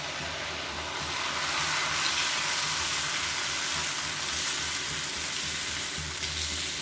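Oil sizzles on a hot dosa griddle in a steady, fairly loud hiss with a low rumbling undertone that holds for several seconds without talk.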